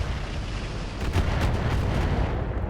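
In the RogueTech mech game, a battlemech fires on a heavy autocannon turret as a dense, rumbling barrage of booming shots that builds midway and rolls on without a break, loud and close, with no speech.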